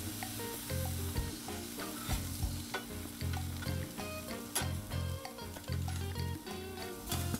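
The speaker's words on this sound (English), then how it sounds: "Flatten them out a little bit so they're all touching the griddle. And that's it. You let them cook." Jumbo hot dogs sizzling on a 22-inch Blackstone griddle, a loud, steady close-up crackle and hiss throughout, overlaid by a background of music with a rhythmic beat.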